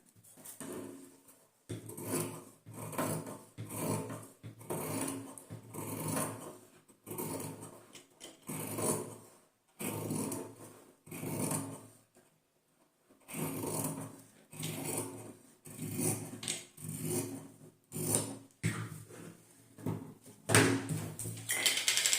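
Scissors cut fabric for a wrist pin cushion in a run of repeated snipping and crunching bursts, each lasting about a second with short gaps, close and fairly quiet, with no talking.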